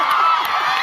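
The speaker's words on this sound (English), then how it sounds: "Please, keep cheering, please." A large Comic-Con 2018 audience cheers and shouts in a dense, loud, continuous roar, with a few whoops rising above the crowd noise.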